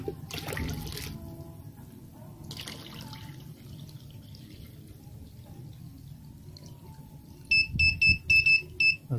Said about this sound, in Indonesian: itu adalah buzzer peringatan bahwa akan terjadinya banjir